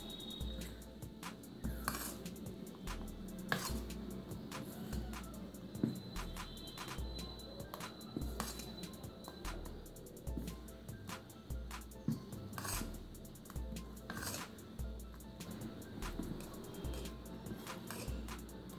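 Tomato dosa batter with coriander is mixed in a bowl, producing quiet, rhythmic scraping and light clinks of a utensil against the bowl, repeating in even strokes.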